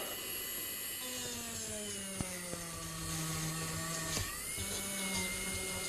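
A small rotary carving tool dry-grinds Queensland boulder opal, giving a steady whining motor hum whose pitch dips and shifts as the bit presses into the stone, with a few light clicks.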